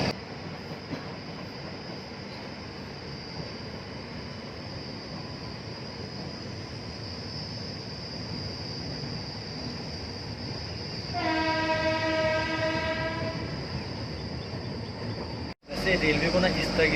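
Purnagiri Jan Shatabdi passenger train running on a single-line section, a steady rolling rumble of wheels on track, then a loud horn blast near the end before a brief cut.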